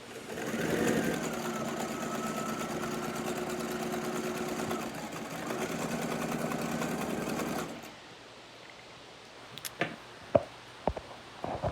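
A sewing machine stitches a fabric face mask in a steady, close, continuous whir that runs for several seconds, then stops, leaving quiet handling noises and a few sharp clicks and taps.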